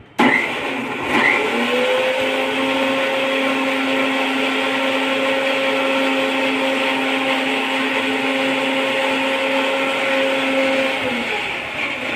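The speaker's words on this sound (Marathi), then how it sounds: "आता आपण टमाटा बारीक करून घेणे" A mixer grinder purees tomatoes in one continuous run lasting about ten seconds, a loud, close, steady motor whine with a faint rattle. It starts abruptly and winds down at the end, with no talking.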